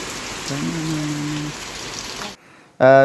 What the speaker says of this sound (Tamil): ஆத்தே மழையும் விடுற மாதிரி இல்லையடா